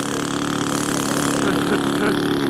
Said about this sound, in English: I noticed how much better the engine sounds this week.